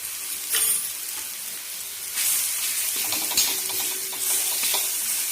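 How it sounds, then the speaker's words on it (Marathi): Garlic cloves sauté in a pan with a steady, close sizzling hiss, broken by a few louder bursts and light scraping as they are stirred, with no talking. "ह्याला पण आपण चांगलं मिनिटभर चांगलं परतून घ्यायचं"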